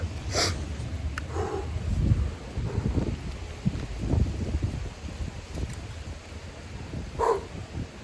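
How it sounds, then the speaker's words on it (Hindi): Steady cold wind rumbles and buffets against the microphone throughout, in the rain, with low gusty swells and occasional faint higher noises. "हवा चल रही बहुत ठंडी"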